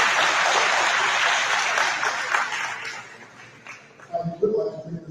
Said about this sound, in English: please recognize, applaud, and praise the Voorhees University choir once again